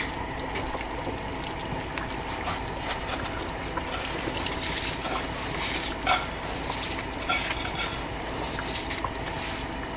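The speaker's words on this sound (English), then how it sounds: "Now that it is cooked, we're going to put in our rice." Chinigura rice is stirred into a hot pot for Afghan beef Kabuli pulao over high heat, giving a steady wet sizzling and scraping with occasional clinks of a utensil against the pot, close and continuous with no talking.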